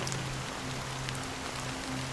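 Steady rain falls in the video game Honkai Star Rail, an even hiss of drops on surfaces that never lets up, with a faint low tonal hum beneath it.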